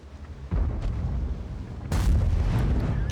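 Tank gun firing in a video game, two deep booming blasts roughly a second and a half apart, each followed by a rumbling low tail, loud and close with no talk.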